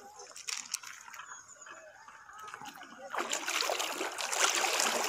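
Someone wades across a river, and after a quiet stretch there is a sustained rush of close splashing water, with a voice heard early on.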